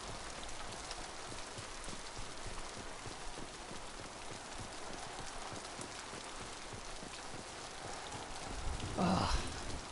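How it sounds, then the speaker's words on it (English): Steady rain patters in Mass Effect 2, a continuous hiss of drops on surfaces throughout, swelling into a brief louder burst near the end. "I do love weather effects on games, especially rain."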